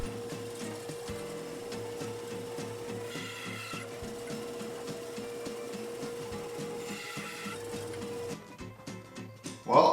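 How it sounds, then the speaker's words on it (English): A bandsaw cuts small wood pieces clamped in a hand screw for a segmented feature ring: a steady motor hum under a continuous rasping cut that drops off near the end, followed by a brief louder knock. "when I cut small pieces on the bandsaw, I like to use a hand screw or some other method to hold them"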